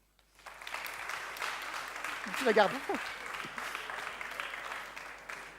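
An audience in an Adventist church gathering breaks into applause that swells and holds steadily, with a voice speaking briefly over the clapping midway.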